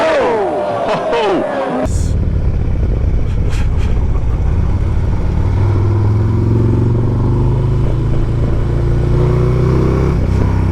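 A race car engine roars past loudly at Mount Panorama, Bathurst, the pitch sweeping down as it goes by, then a sustained engine drone with crowd noise behind it.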